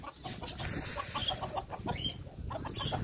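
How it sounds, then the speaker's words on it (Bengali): Chickens on a farmhouse farm near Frankfurt, Germany, cluck softly in short, repeated bursts over faint outdoor background noise. "এদিকে সব মুরগি ডিপার্টমেন্ট"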